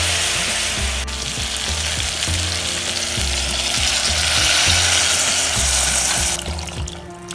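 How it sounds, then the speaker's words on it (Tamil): Vegetables frying in oil for a South Indian dish, a steady loud sizzle with crackling and the scrape of stirring throughout, close up, with no talking. "இது வந்து கொஞ்சம் அப்படியே ஃப்ரை ஆகணும் இந்த ஆயிலில்"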